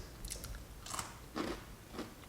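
Close, crisp crunches of someone biting and chewing tomato rosemary focaccia with a crunchy bottom crust, about four distinct bites spaced across a quiet stretch with no talk.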